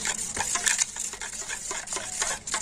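A whisk beats red beetroot-juice batter for chakli pitha in a bowl, producing rhythmic, close, wet swishing strokes with light metallic clicks, steady and repeated throughout.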